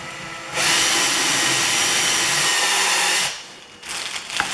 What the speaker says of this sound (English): We're just going to countersink these 4 holes a little bit.